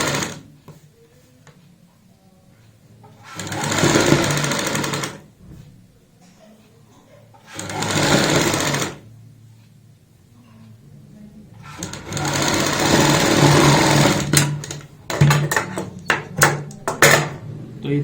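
Sewing machine stitching a blouse sleeve armhole strip, running in three loud bursts of rapid mechanical whirring separated by short pauses, the last burst breaking into quick stop-start stitches.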